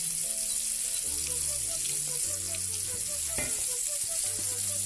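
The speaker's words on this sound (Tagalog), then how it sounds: "Let me add a little bit of olive oil again to cook the onion." Chopped onion frying in olive oil for three delights fried rice, giving a steady, close hiss of sizzling throughout, with faint tonal background sound running underneath.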